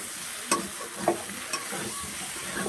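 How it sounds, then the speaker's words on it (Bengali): Potatoes for a vegetarian aloo dum are stir-fried in a pan. A soft, steady sizzle runs throughout, and a few sharp scraping knocks of the spoon break through it. "এবার এটাকে ভালো করে কষাই করে নিতে হবে, ভেজে নিতে হবে"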